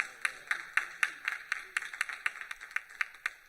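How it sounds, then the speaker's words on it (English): Rhythmic clapping from a small audience at an evening Miami Dade Works event, a steady beat of about four claps per second, close and clear with no voices. "One more round of applause for Mr. McCall"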